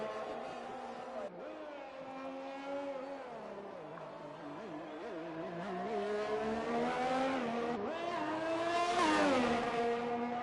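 An F1 car lapping the Canada circuit in the F1 2021 racing game, its engine screaming at high revs with a steady, close whine that dips briefly on gear shifts and climbs again under acceleration.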